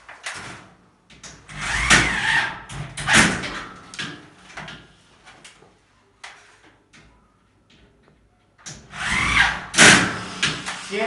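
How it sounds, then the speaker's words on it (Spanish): A power drill drives screws into metal drywall framing profiles, with three loud whirring bursts of a few seconds each separated by quieter handling noises and pauses. "vamos a atornillar los laterales"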